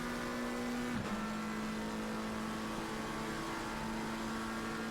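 Race cars in a racing video game accelerating along a straight at Watkins Glen, a sustained engine drone with one car's pitch dipping briefly before climbing again, steady and fairly loud with no voices.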